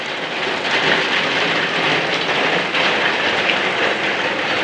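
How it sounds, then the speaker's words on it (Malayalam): Steady, dense summer rain hisses throughout, a heavy downpour with constant rushing noise and no voices. "നല്ല അടിപൊളി മഴയാണ്."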